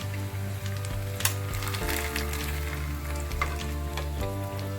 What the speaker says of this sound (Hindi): इस तरीके से कॉर्न पोहा को तल लेंगे, थोड़ा थोड़ा डालकर हम।